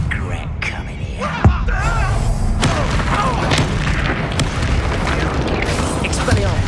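A Confringo blasting spell explodes in the Hogwarts Legacy video game, a heavy boom that rolls into sustained rumbling battle noise while a voice speaks over it.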